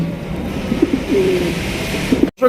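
A pair of black pigeons at a pigeon seller's coos in a few soft, low, rolling calls close to the microphone, and a brief dropout near the end.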